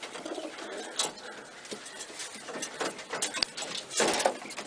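Pet pigeons, one with a wing frozen shut, cooing and shuffling close by in short soft bursts mixed with light rustling and pattering, uneven and fairly quiet.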